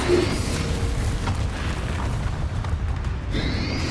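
A Bombarda spell in Hogwarts Legacy goes off as a dense, rumbling boom that stays loud and roiling across the few seconds, with a brief sharper burst near the end.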